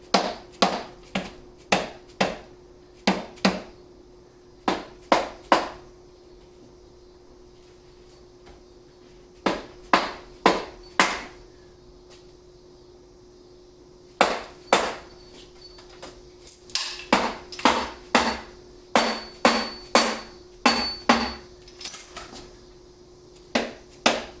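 A hammer strikes an engine part during an engine teardown, sharp metallic knocks coming in quick bursts of several blows separated by pauses, close and loud over a faint steady hum.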